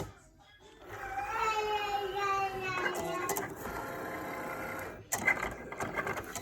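A Cricut cutting machine running in fast mode whirs with a rising motor pitch, then gives sharper mechanical clicks and movement sounds near the end, close and moderately loud, with no talking.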